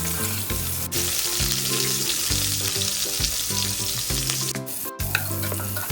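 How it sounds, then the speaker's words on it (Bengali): Cauliflower florets, fried one at a time in hot oil in a wok for paneer-cauliflower, sizzle steadily and loudly throughout with bubbling crackle; background music plays underneath, and a sharp clatter sounds near the end. "কড়াইয়ে তেল দিয়ে তেলটি গরম হয়ে এলে আস্তে আস্তে একটা একটা করে ফুলকপিগুলিকে গোল্ডেন ব্রাউন করে ভেজে নিতে হবে"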